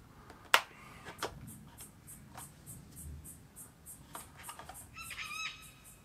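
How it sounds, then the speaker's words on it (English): Cockatoos call outdoors with a sharp, harsh screech followed by a few more distant squawks, alongside faint chirping of other birds in the background. "That was Australia's famous what the heck bird, otherwise known as the cockatoo."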